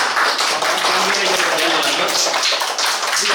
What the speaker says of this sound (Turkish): Bravo bir alkışlayalım evet